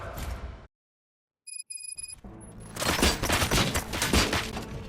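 Gunfire erupts in the video game RoboCop: Rogue City: a brief electronic beeping after a sudden silence, then a loud, dense burst of rapid shots and impacts.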